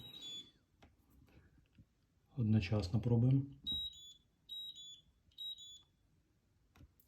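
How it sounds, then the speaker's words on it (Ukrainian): A Beko DIN34322 dishwasher, set up for water hardness, gives three short high electronic beeps in an evenly spaced row after someone speaks close by; the beeps are clear and moderately loud. "Тобто три було таких пищалки."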